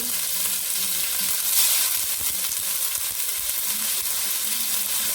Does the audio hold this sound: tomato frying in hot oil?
yes